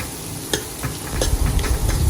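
Chopped onion fries in a pan for Pahari chicken, a close hiss of sizzling with sharp clicks and scraping stirs over a rising low rumble, with no talk.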